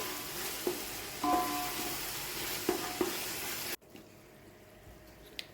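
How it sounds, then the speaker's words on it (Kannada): Tomato, ginger-garlic paste, fenugreek, coriander and mint leaves sizzle in a pan, a soft constant frying hiss broken by a few light scrapes and clicks of stirring before the sound cuts abruptly to near quiet. "ಹಾಗೆಯೇ ಇಲ್ಲಿ ಮೆಂತ್ಯ ಸೊಪ್ಪು, ಕೊತ್ತಂಬರಿ ಸೊಪ್ಪು, ಪುದೀನ ಸೊಪ್ಪು ಇದನ್ನು ಹಾಕಿ ಚೆನ್ನಾಗಿ ಫ್ರೈ ಮಾಡ್ಕೋತಾ ಇದ್ದೀನಿ"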